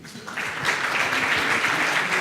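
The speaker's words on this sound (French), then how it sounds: "Il faut applaudir un peu." Audience applause at a presentation of digital workshop projects, a dense wash of clapping that swells quickly and holds steady throughout.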